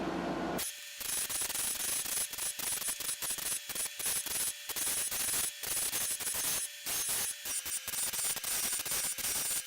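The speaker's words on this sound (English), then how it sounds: "So let's go ahead and spray this round." Short bursts from a dye spray bottle misting blue, violet, yellow and red photoreactive dye onto tie-dye fabric, a rapid series of close, hissing squirts separated by brief gaps.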